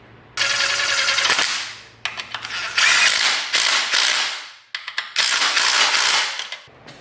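Bolts coated with blue thread locker are run into a BMW S1000RR motorcycle with a ratchet, giving loud, close bursts of rapid clicking separated by short pauses.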